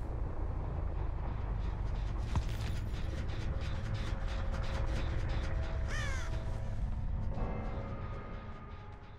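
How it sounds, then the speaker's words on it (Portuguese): Crows caw over a dull, steady wind-and-machinery drone in the Dead by Daylight game, with harsh calls scattered through the stretch and a sharp crackling burst near the end. "Já vi pássaros voando já."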